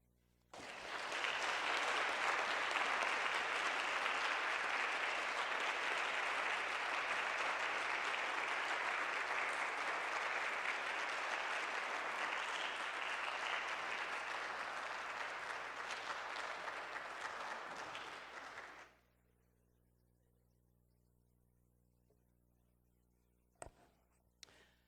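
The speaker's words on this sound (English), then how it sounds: "I think it deserves a big round of applause." An audience claps steadily for about eighteen seconds after a talk on Black history, the sound full and sustained before cutting off into near silence.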